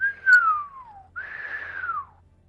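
A person whistles in amazement: a long descending whistle followed by a brief pause and a second gently arching whistle, clear and close with no talk.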